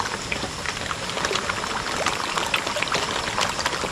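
Spring water fed by frequent rain gushes strongly from its source in a rural province, a loud, continuous rushing and splashing close by, with no talking.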